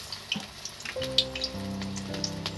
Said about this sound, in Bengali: এই যে পেঁয়াজিটা ভাজি বন্ধুরা একদম অল্প তেলে ভাজবো